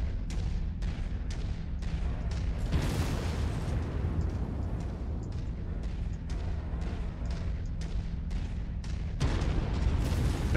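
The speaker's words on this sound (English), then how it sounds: "That big cannon makes so much noise." Heavy cannon fire in the MechWarrior 5 video game: repeated loud booming blasts and bursts over a dense, continuous battle rumble, with no talking.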